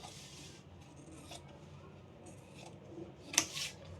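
Scissors cut blouse fabric in a few faint, soft snips and rasps, growing briefly louder near the end in an otherwise quiet room.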